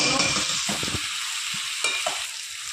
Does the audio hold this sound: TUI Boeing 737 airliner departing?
no